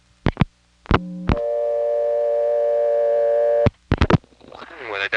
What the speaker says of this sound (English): it dumps me back to dial tone somehow